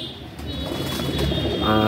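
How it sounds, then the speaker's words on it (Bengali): An old-generation female Madrasi pigeon coos close by, its soft, low throaty calls rising over a steady background hum. "এটা আর একটা পায়রা"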